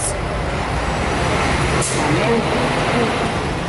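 Busy street traffic in Athens, a dense nearby roar of buses and cars with a brief hiss like an air brake, steady and loud throughout.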